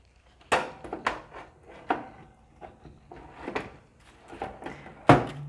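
Green beans going into an oven or toaster oven: a series of wooden knocks and clunks, like a door or tray being handled, with a sharp louder clack at the end, no talking.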